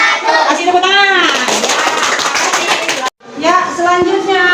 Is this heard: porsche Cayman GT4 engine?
no